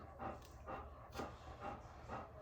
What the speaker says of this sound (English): there's my dog panting, if you can hear that.